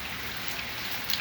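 Steady rain falls during a thunderstorm in Jeddah, a brief, even hiss of drops with no voices and no clear thunder.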